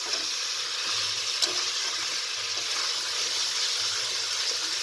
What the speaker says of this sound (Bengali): লবণ দিয়ে ভেজে নেবো।